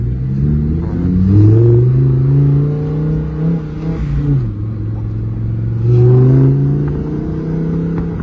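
A Lamborghini Huracan Evo pulling away slowly in first gear, its engine heard from inside as a loud low drone that swells and eases with throttle, rising in pitch twice, with faint chatter underneath.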